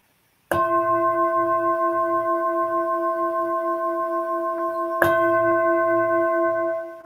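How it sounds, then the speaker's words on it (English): A meditation bell closes a mindfulness session with two clear strikes a few seconds apart, each ringing out in a long, sustained, shimmering tone that slowly fades, close and calm with no talk. "I close the meditation with the sound of three bells"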